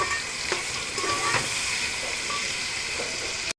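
Tomatoes and cashews sizzling in a pan with onions, oil and butter, a steady close frying hiss broken by occasional stirring scrapes and crackles before stopping abruptly.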